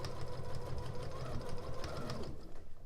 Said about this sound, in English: So I'm just going to start sewing now, using a 1/4 inch seam all the way through.